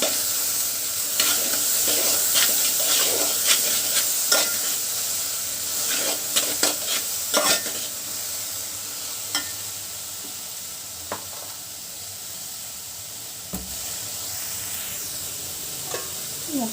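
Sweet corn masala snack with salt being stirred in a pan, close up: repeated scraping strokes over a steady sizzling hiss, no talking.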